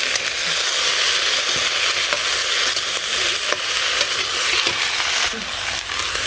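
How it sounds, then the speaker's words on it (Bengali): Potatoes fry with tomato, green chilli and eggplant in hot oil, giving a loud, steady sizzle close up, broken by occasional scraping stirs. "তো আলুগুলো ভাজা হয়ে গেছে, টমেটো, কাঁচামরিচ আর বেগুন একসাথে দিয়ে দিলাম"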